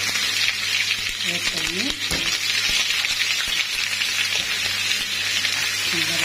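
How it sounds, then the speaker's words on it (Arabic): Onions dropped into very hot oil for a bessara garnish sizzle and fry steadily, a close broadband hiss that runs throughout while someone talks over it. "الزيت كده يا جماعه سخن جامد. هنزل بقى بالبصل"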